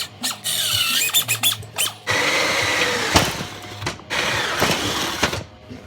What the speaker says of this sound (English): I'm gonna drill these.